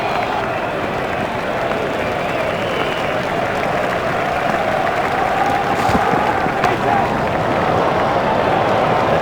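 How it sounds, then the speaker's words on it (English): A tremendous stadium crowd applauding a batsman's century in an India versus England cricket semifinal, a loud continuous roar of clapping and cheering with a few sharper bursts, carrying on for several seconds. "how he deserves the applause of this tremendous crowd"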